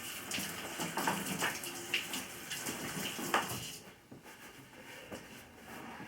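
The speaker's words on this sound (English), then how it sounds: "Let me rinse my hands off." Water runs from a kitchen tap as hands are rinsed, a steady splashing wash for about four seconds before the flow cuts off and only faint room noise remains.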